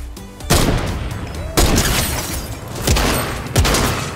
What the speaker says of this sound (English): Sniper shotgun, guys.